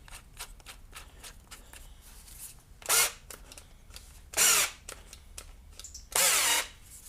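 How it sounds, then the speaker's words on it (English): Short bursts of a power drill whirring as it tightens a drill chuck, three quick runs separated by quiet clicks and light handling noises. "kind of bump it on there with the drill"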